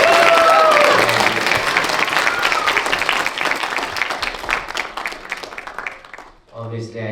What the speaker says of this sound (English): I think Ruby and Spencer deserve the big round of applause for this one